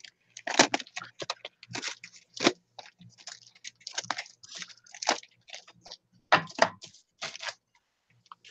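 Paper stiffened with gesso on both sides being trimmed, a series of close, crisp snipping and crunching cuts in irregular clusters, with quiet pauses between.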